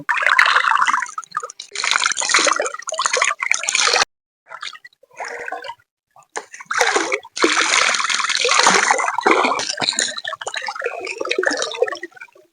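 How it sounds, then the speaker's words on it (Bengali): Pond water splashes and pours over hair being washed, coming in loud close gushes and trickles broken by short pauses, with dripping between, no voices. "এখন কিন্তু আমি চুলটাকে ভালো করে ধুয়ে নেবো আর পুকুরের জলেই কিন্তু চুলটা ধোবো"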